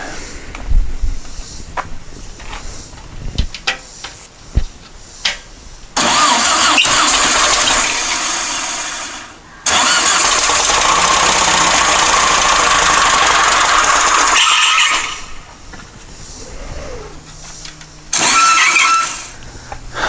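The engine of a dune buggy generator cranks and catches in loud, close bursts. Knocking starts come first, then two long runs that cut off abruptly, and a final short attempt before it locks up. No one talks.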